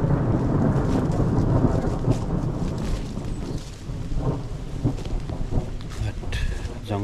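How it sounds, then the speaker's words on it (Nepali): Thunder rumbles through heavy rain in a jungle, a loud, deep roll that stays high throughout and slowly fades, with rain hiss and a little wind on top. "जङ्गलमा छौँ हेर डेन्जर चट्याङ हान्नु थालेको"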